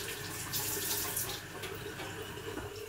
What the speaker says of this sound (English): I'm going to give this grater a quick rinse because I need to use it again.